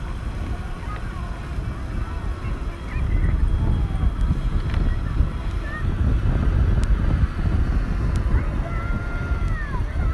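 Strong wind buffets the microphone on Pasir Padi beach in Bangka, a loud, continuous low roar that swells partway through and stays rough and gusty with no clear pauses.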